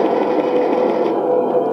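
Machine gun sound effect played from the speaker of a customized full-metal 1:16 scale RC Abrams M1A2 tank, a steady buzzing electronic rattle that runs unbroken and fairly loud for the whole short stretch.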